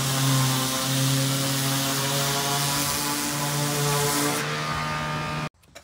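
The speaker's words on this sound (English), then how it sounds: "now I'm going to take 60 grit sandpaper on a palm sander and sand the whole thing" A palm sander with 60 grit sandpaper works across a wooden dining table made from flooring, a loud steady motorized whir with humming tones that cuts off abruptly near the end.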